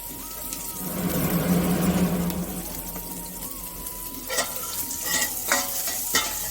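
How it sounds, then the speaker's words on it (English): Crushed garlic and dried chilies frying in gingerly oil, a close, steady sizzle with a background hum and sharp stirring clicks toward the end. "Garlic when fried in gingerly oil gives an amazing flavor"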